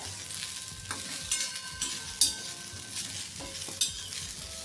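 Okra fries in oil over a high gas flame, crackling and sizzling steadily up close, with a few sharp pops and light metallic clinks from the pan.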